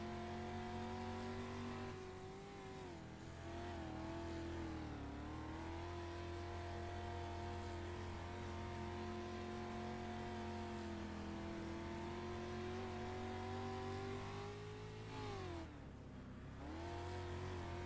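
Race cars lapping Knoxville in a racing video game, a steady drone of engines held flat out with a brief dip and recovery of revs near the end, loud and continuous with no talking.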